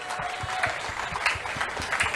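Crowd applause at a public rally in Gandhi Nagar market, with brisk clapping over a steady series of low rhythmic thumps throughout the short burst.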